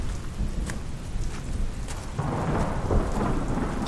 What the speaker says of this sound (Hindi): आज दोपहर से बारिश हो रही थी, जो अब थोड़ी कम हुई थी।